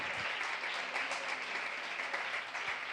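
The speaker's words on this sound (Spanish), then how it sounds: "Dale un fuerte aplauso a Dios." A church congregation claps in sustained, dense applause, fairly quiet and steady throughout with no voices standing out.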